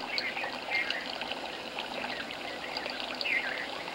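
Running water flows beside a small trail shelter in Asia's Golden Triangle, a steady close trickle and gurgle with brighter splashing spots, alone without voices.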